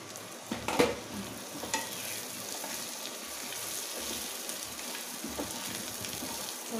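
Stuffed taro (arbi) frying in a covered pan over low heat, giving a soft steady sizzle with a few faint scraping stirs near the start, quiet and close, with no talking.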